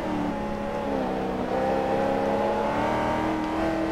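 A Corvette's engine holds a loud, continuous rev in Forza Motorsport 3, its tone wavering slightly as the car keeps pulling, with no voices over it.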